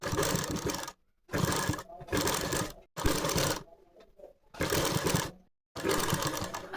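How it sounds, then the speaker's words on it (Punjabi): A sewing machine stitches a facing strip onto the back neck of a kameez in six loud, close bursts of rapid running, separated by short silent pauses. "ਆਪਾਂ ਪੈਰ ਦਾ ਮਾਰਜਨ ਛੱਡ ਕੇ ਸਲਾਈ ਲਗਾਵਾਂਗੇ"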